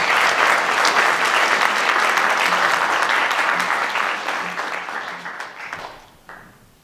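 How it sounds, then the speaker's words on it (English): Audience applause at the Litchfield Hills Creative Awards 2019 ceremony, a full round of many hands clapping close and loud, holding steady before thinning out and fading toward the end. "please give Jocelyn a really big round of applause"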